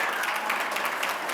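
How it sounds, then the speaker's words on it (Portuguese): A short burst of dense audience applause greets a speaker at a lecture event, with many hands clapping steadily and loudly throughout. "recebam com carinho, coração aberto e uma forte salva de palmas"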